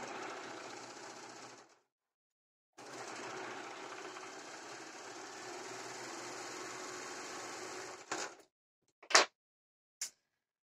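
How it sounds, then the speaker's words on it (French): Overlocker stitching along a fabric band, a steady rapid whirring hum in two long runs separated by a short pause, followed by a few brief sharp clicks and snips at the end. "mais j'ai envie de me servir de surjeteuse"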